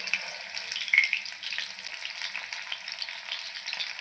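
Chicken pakoras crackle and bubble in hot frying oil as they are turned over, a fairly soft, close, continuous spatter with no talking.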